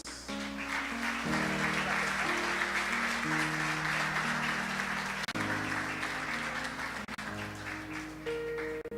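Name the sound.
church congregation clapping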